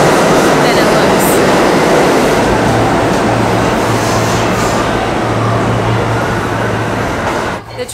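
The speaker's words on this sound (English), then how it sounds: "The train didn't stop. It took forever to get here, and then it just went right on by." A loud, close commuter train between Manhattan and New Jersey roars past without stopping, a broad rushing rumble with a steady low hum that fades slightly at the end.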